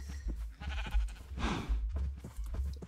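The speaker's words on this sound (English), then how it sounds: "We're gonna grab a sheep as well." Sheep bleating in the Minecraft video game, short game-style bleats repeating over a low rumbling background with steady game ambience throughout.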